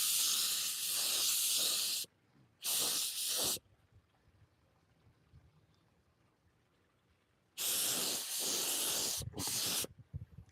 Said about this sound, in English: you can go back and spray it again and don't have no puddle